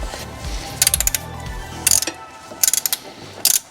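Ratchet with a 19 mm socket undoing the transmission filter on a Mercedes B 180 with a 7G-DCT dual-clutch gearbox, several quick bursts of loud, close clicking separated by short pauses.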